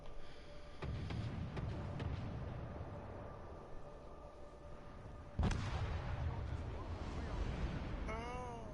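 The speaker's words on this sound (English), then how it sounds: "Alle Stationen, Feuer auf das Ziel konzentrieren." Destroyer guns fire in a naval combat video game, a steady rumbling barrage with a sharp, louder blast about halfway through, while voices talk over the action.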